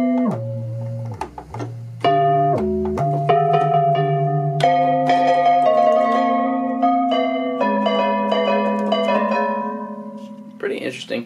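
Yamaha DX7 synthesizer playing a bell-like patch with pitch bend at maximum range, sustained tonal notes gliding and stepping in pitch, clear and fairly loud, ending with a brief noisy burst.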